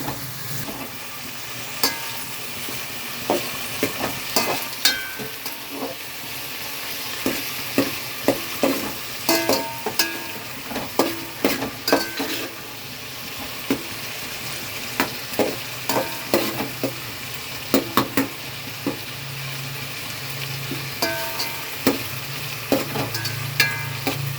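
Ingredients roasting in a pan for vada saaru, a continuous frying sizzle broken by repeated clattering stirring strokes at an uneven rhythm, close and steady, with no talking.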